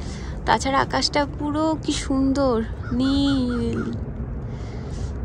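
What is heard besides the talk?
crows cawing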